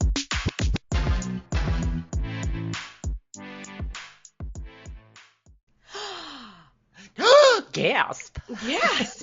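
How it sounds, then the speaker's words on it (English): Two hosts open a history podcast with dramatic vocal gasps, several sharp breathy intakes after a run of speech, close and fairly loud. "Gasp. Gasp."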